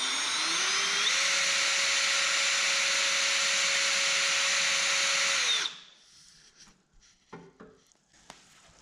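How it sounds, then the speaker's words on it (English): A power drill bores holes through a poly edge being fitted to a snow blade, a loud steady whine that ramps up, holds for several seconds, then cuts off, followed by faint handling clatter. "Next, I'll just drill these holes out."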